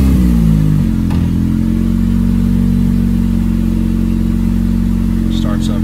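Turbocharged Honda S2000 with 1000cc injectors settling from start-up into a loud, steady idle, a continuous low engine drone with a brief rev change early on, and a voice talking over it.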